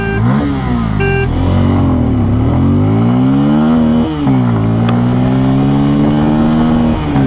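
A motorcycle engine, either a 2025 TVS Ronin 225 or a Bajaj Pulsar N250, accelerates in first gear during an acceleration test, loud and close, its pitch sweeping up and down through repeated revs.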